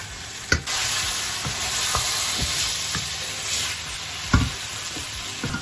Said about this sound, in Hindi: ये जो दही रखा था मसाला डाल के ये भी मैं डाल दूंगी और इसको अच्छी तरह भूनना है